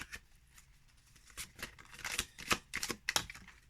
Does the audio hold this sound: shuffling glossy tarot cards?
yes